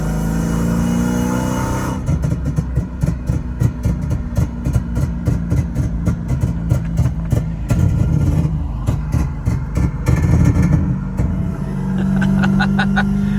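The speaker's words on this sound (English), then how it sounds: "Whole lot of burble now." A Hellcat Charger with a drift and flame tune sits at a steady idle, then breaks into a long run of rapid popping and crackling exhaust burble, loud and close, with a few sharper bangs near the end.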